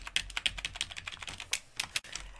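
Quick, irregular keystrokes clatter on a computer keyboard during work in the Skyrim Creation Kit, a dense run of close clicks with no one speaking.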